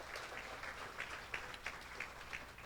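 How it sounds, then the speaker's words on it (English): Audience applause at an annual dinner, a steady wash of many hands clapping with scattered sharper claps throughout, moderately loud and continuous with no talking over it. "So please give yourselves a round of applause"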